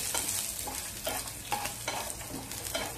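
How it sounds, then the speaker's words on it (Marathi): Masala and garlic fry in oil under repeated stirring strokes, a bright continuous sizzle pulsing with scraping sweeps of a spoon across the pan. "आता आपल्याला हा मसाला चांगला तेलावरती भाजून घ्यायचा आहे."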